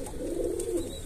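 An escaped bird loose inside a house gives a soft, steady pigeon-like coo, close and fairly quiet, with no other sounds around it.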